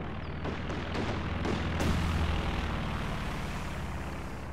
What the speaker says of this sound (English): Cluster bomb.